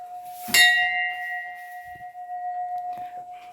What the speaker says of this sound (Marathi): घंटा वाजवला